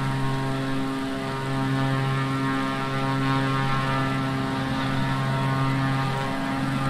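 A propeller aircraft engine in Flight Simulator 2020 drones steadily and loudly at high throttle for a climb, a continuous buzzing hum with strong harmonic tones and no break.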